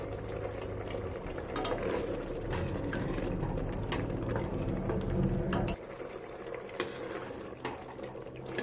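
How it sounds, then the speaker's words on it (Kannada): A pot of rajma masala gravy simmers on the stove with steady bubbling and popping. The sound is moderately close and continuous, with a low hum beneath that drops off partway through. "4 ರಿಂದ 5 ನಿಮಿಷ ಇದು ಹೀಗೆ ಕುದಿಲಿ"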